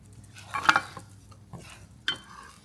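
Flour and oil gravy made from scratch is stirred in a hot pan, giving a few scraping strokes and clinks over a faint sizzle with no talk.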